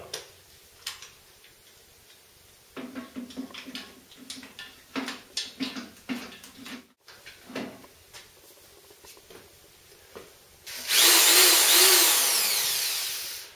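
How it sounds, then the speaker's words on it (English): Scattered clicks and taps, then a power drill whines loudly for a few seconds, rising steadily as it bores a hole into a clamped brew kettle pot. "With our drill ready to go, we're ready to start drilling this hole."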